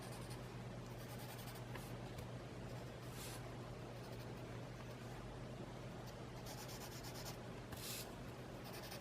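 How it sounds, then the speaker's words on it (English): A pencil draws a border on paper, a faint continuous scratching and rubbing over nine seconds with a few brief louder strokes, close up and with no talking. "Made myself a little border just with pencil"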